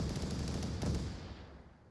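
Rapid gunfire in the VR shooter Onward during a competitive league match, a dense burst of shots that peaks and then fades into quiet.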